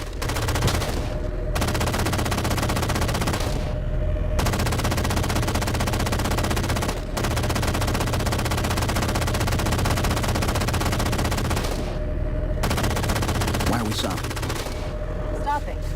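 Sustained automatic gunfire in the video game Halo 4, a dense, loud, near-continuous rattle of rapid shots broken by brief pauses, with a low engine rumble underneath.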